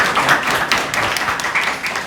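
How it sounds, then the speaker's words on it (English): An audience claps for a speaker taking the floor at a startup demo day and graduation: a brief, even wash of many hands clapping, fairly close and steady, with no talking over it. "And applause, people."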